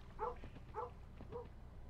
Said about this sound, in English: Doggy, let's go. Stop barking.